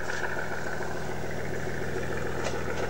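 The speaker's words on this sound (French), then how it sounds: "écoute son moteur et le roulement" A Picasso X-3800 railcar engine runs in a steady, droning hum with a constant low rumble and vibration, close and even throughout, with no voices.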